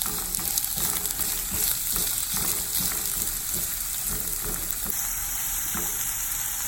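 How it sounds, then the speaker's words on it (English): Chopped onion sautéing in about two tablespoons of hot oil in a pan, a steady close sizzle and crackle with occasional stirring scrapes, no voices. "We're gonna go ahead and add the onion. And we're gonna go ahead and saute until it gets soft."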